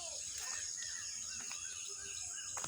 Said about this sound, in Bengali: পাখির কিচিরমিচির শোনা।